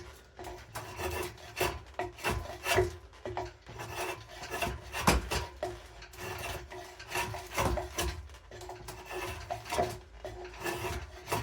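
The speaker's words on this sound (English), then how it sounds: "I'll go at it with my draw knife" Draw knife roughing out a wooden axe handle, uneven bursts of shaving and scraping strokes, close and moderately loud, with short pauses between pulls.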